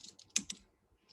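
A few quick keystrokes on a computer keyboard, close and soft, with one sharper click in the middle of a brief burst.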